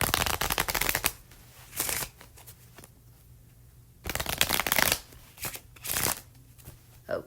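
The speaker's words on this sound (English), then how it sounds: "we shuffle the cards because we like the sound of the shuffle" Playing cards riffle-shuffled several times up close, quick fluttering bursts separated by short pauses.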